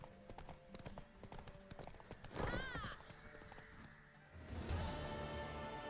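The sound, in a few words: horse hooves in The Witcher 3 video game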